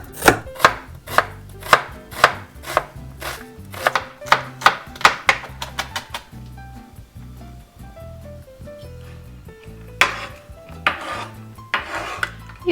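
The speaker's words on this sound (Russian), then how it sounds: "Затем возьмем одну луковицу и нарежем ее мелко." An onion being finely chopped with a knife on a board, a run of sharp, evenly spaced thuds that thins into quieter scraping and then returns to a few more crisp cuts, close and with no talking.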